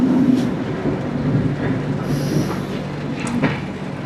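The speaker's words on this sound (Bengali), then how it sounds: "ট্রেন কিন্তু একদম নির্ধারিত টাইমে শালিমার স্টেশন থেকে রওনা দিয়েছে পুরীর" A train leaving Shalimar station for Puri rumbles and clatters close by, its wheels giving a steady rolling roar broken by brief high squeals and clanks.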